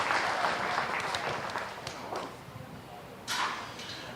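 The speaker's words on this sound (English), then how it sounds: "let's give all the kids exhibiting the beef steers today a round of applause" Applause from spectators at a junior beef steer show ripples through an arena, tapering off midway before a fresh burst of clapping rises near the end, with a voice heard.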